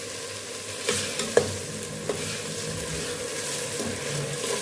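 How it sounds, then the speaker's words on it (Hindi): Chopped tomatoes are stirred into mash dal masala in a pan, giving a steady close sizzle with a few sharp spoon taps and scrapes against the pan. "टमाटर डालने के बाद हम अच्छे तरीके से इसको मिक्स कर लेंगे"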